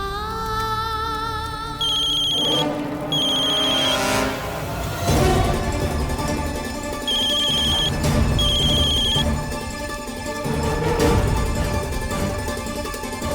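A mobile phone ringtone plays in repeated melodic bursts over about thirteen seconds, with short gaps between phrases, clear and fairly loud with no talking.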